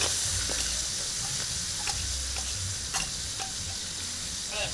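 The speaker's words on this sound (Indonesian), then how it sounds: "Bumbu yang sudah saya haluskan sepenuh hati ditumis dengan sedikit minyak sampai halus dan matang" Ground spice paste sautéing in a little oil, a dish from the southern coast of West Java, with a steady broad sizzle and scattered stirring clicks and scrapes running close throughout.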